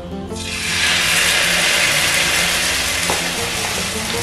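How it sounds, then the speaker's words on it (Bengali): Batter-coated bread slices fry in a frying pan with a loud, dense, continuous sizzle that builds within the first second and holds steady. A faint clink comes near the end. "তারপরে ফ্রাইং প্যানের মধ্যে দিয়ে দিচ্ছি।"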